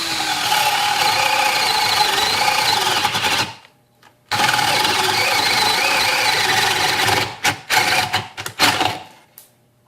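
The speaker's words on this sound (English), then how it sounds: "Let me drill right next to it." A Ryobi 18-volt cordless drill drills beside an earlier hole in a loud, steady whine, stops briefly, then runs again before ending in several short, stuttering bursts as the clutch catches.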